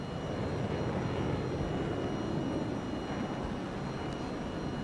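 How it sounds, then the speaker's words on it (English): Steady, loud propeller-plane engine drone from a flight simulator game, with no talk over it. "That noisy plane."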